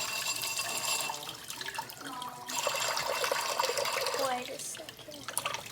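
Water runs at a sink with a few drips and splashes, heard close up under a voice speaking briefly.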